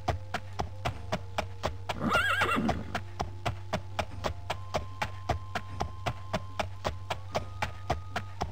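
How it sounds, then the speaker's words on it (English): A horse whinnies once in Elder Scrolls Daggerfall, a short high neigh amid steady regular clip-clop hoofbeats that continue throughout over a low constant hum. "Every time I click an option, I would hear the horse. What's the term? Whine? The horse makes a sound."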